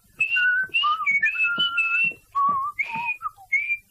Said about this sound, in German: Irgendjemand pfiff sein Lied hinter ihm her. Und zwar ziemlich laut und unvorstellbar falsch.